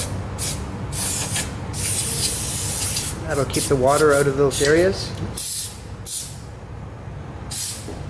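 RustCheck rust proofing sprays into the seams of a car in short, sharp hissing bursts, several spaced across the stretch, with a person talking between and over them close by.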